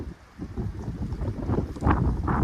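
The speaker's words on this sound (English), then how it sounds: "It is super windy out today." Strong wind buffets the microphone beside a fishing pond, a low, gusty rumble that swells louder toward the end, with no voices.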